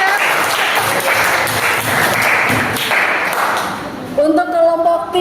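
A classroom group applauds, brisk clapping filling the first four seconds before fading as a voice begins speaking.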